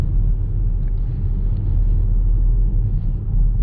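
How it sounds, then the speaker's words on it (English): A 2019 Škoda Kodiaq RS SUV with a strong diesel engine being driven, heard from inside the cabin as a steady, deep engine and exhaust rumble with road noise and no clear changes in pitch. "Even in the, you know, just the comfort mode, you can hear the exhaust"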